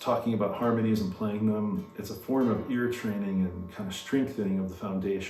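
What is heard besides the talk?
No everyday noise stands out behind the speech.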